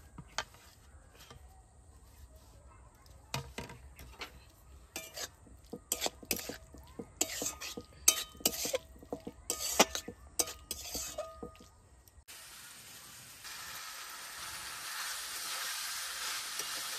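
Fried cauliflower and carrot are stirred with spices in a pan, giving a series of scraping, clattering spatula strokes over soft sizzling, followed by a steady hiss of frying toward the end.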